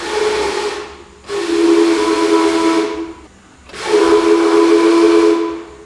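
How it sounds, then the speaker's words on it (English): The steam whistle at Steam Whistle Brewing is pulled twice, each a loud, close, sustained hissing tone lasting about two seconds, separated by a short pause. "one lucky person from every tour actually gets to come in and pull the whistle"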